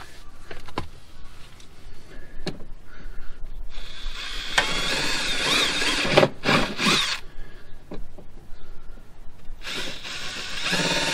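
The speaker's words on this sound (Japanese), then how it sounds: "少しドリルで 穴をちょっと開けておこうかなと思います。" An electric drill whirs through a hole in a Subaru WRX rear bumper in several bursts, with short pauses and a few clicks and knocks between the runs.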